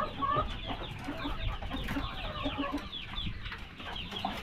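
Several black laying hens cluck and murmur close by in a continuous chatter, with short higher calls now and then over farmyard background noise.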